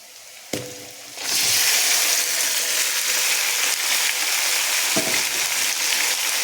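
Marinated mutton dropped into browned onions in a kadai, a sharp thump and then a loud, steady sizzle that fills the rest, with a second clatter partway through and no talk.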